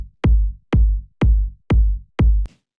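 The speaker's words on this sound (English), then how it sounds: "So the kick I actually sampled from the track and just cut away a little bit of the high end here" Five fat, punchy electronic kick drums sampled from a track with the high end trimmed, hitting in a steady four-on-the-floor pulse, each a deep boomy thump with a short tail, loud and isolated.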